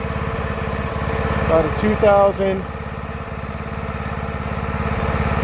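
A 1999 Kubota ARX 6500 generator idles with no load in a loud, steady, close-up low thrum, while a person speaks briefly over it.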